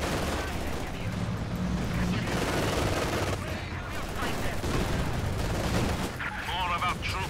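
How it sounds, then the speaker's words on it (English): Battle gunfire in Company of Heroes 2, a continuous mix of rattling machine-gun bursts and scattered shots with occasional booms, under intermittent game voice lines and player talk. "My tank is under fire."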